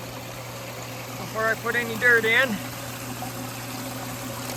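A mini highbanker for gold prospecting runs outdoors with steady flowing water and the low, constant drone of its pump, while someone talks briefly over it.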